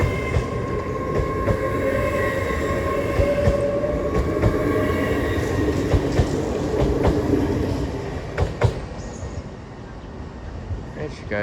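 A Class 800 train pulls out of Doncaster station on the East Coast Main Line, bound for Harrogate from London King's Cross, with a loud, steady rolling roar, clicking wheels over track joints, and the sound easing as it leaves.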